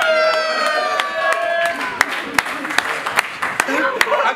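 Crowd at a rap battle event applauding and cheering, with sharp claps and whistles over a noisy hubbub, while a siren-like horn tone rings early on.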